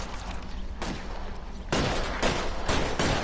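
Video game gunfire on a PS4 crackles in loud, dense fusillade bursts, with a sharp volley near the start and then heavier repeated salvos that fill the rest of the clip.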